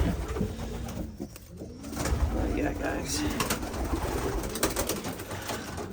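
Racing pigeons coo and rustle in a loft, a continuous soft murmur of birds close by, with someone speaking briefly over them.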